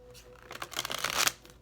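A quick riffle of tarot cards being shuffled, a brief flurry of papery flicks that builds and then stops.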